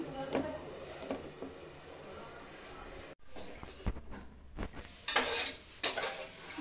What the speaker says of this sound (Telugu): కరివేపాకు వేసేస్తున్నాను